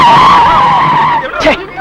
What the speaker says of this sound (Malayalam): വണ്ടി ഇങ്ങനെ വലിയ ശബ്ദത്തോടെ ബ്രേക്ക് ഇടുന്നത് കാണാൻ നല്ല ശേല